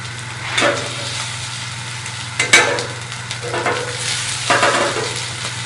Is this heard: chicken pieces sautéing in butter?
yes